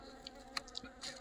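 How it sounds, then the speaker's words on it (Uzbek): Bees buzz close by at a beehive, a faint, steady drone with a few brief louder passes of individual insects. "Arilar"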